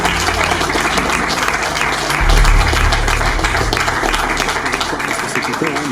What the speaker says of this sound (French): faites un gros applaudissement pour le Luxe Club pour nous avoir octroyé.